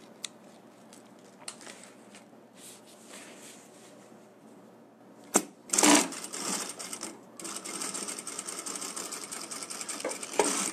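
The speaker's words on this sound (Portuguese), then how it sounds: "vou bater uma costurinha para prender a lateral" A sewing machine runs in several bursts as it stitches the side seam of a handmade wallet, with short starts and stops before a longer steady run of close, rapid mechanical stitching.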